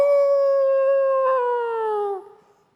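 A preacher's voice imitates a wild beast's howl, one long sustained cry lasting about two seconds that slowly falls in pitch and then breaks off, loud and close with no other sound behind it.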